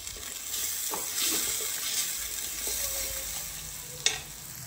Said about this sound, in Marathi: हे कमी गॅसवरती आपल्याला तेल सुटेपर्यंत छान मसाला असा परतून घ्यायचा आहे